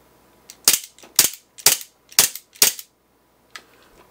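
Five sharp, snappy shots from an Umarex Colt Commander .177 blowback air pistol fire in quick succession, each a crisp crack with a short mechanical clack, followed after a pause by a faint sixth click.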